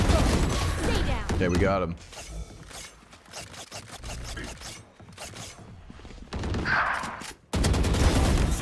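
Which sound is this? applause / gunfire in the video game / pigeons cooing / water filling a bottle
gunfire in the video game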